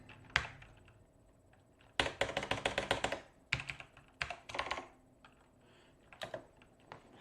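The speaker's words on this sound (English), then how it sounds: "always spam the keyboard." Rapid bursts of computer keyboard typing during software development work, with quick clustered keystrokes separated by short pauses, close and fairly crisp with no talk.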